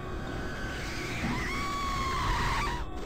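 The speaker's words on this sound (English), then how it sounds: "Who was screaming?" A distorted, wavering scream in the video game The Dream Machine, rising and sliding over a constant noisy background for about two seconds before cutting off.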